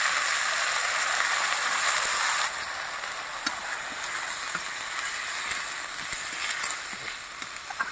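Cauliflower stems go into a hot pan with onion and garlic and fry in oil, a steady close sizzle that drops slightly in loudness partway through, with small scraping stirs scattered on top.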